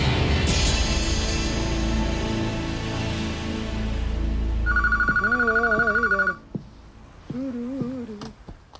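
A telephone rings with a steady bell tone, then a few short ringing bursts, heard beneath music and voices in an indoor scene.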